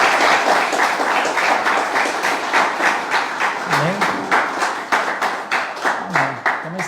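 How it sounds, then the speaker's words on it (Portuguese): A church congregation claps together in a quick, rhythmic unison beat, strong and close, with a few brief vocal calls rising over the clapping. "Uma salva de palmas para Jesus."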